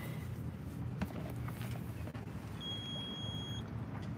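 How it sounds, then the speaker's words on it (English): An electric boat motor on the Intracoastal Waterway gives off a steady high electronic beep over a low hum of water and engine, with the boat drifting in a strong current. "That beeping you're hearing is because the motor is..."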